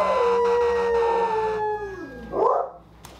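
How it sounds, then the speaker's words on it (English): A puppy howls along with wailing fire engine sirens. The steady siren tones slowly drop in pitch, then the dog's rising and falling howl swells loudly near the end before fading. "my puppy howling along with fire engines while I was stringing them up"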